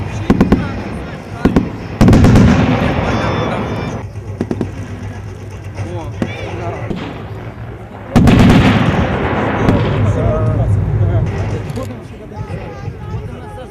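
Battle reenactment with German troops under cannon and machine-gun fire: loud booming blasts and rapid crackling bursts of gunfire, with heavy explosions at intervals over a continuous rumble of battle.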